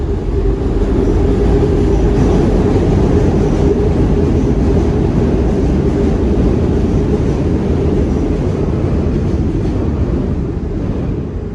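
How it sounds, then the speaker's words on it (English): A train passes nearby in the Olde Kensington neighborhood, a loud, continuous low rumble and roar that stays heavy and steady for the whole stretch, with no talk over it. "We got another train coming."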